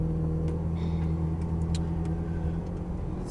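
A Ferrari 430 Scuderia idling low and steady as it begins to roll out onto a pit lane, a close engine drone with a firm low hum and a few light clicks over it.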